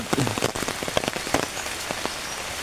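Rain pattering steadily on a nearby surface on a rural farm, a dense even wash of drops throughout with a few sharper drip taps standing out.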